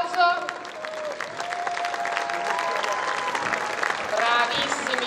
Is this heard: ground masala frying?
no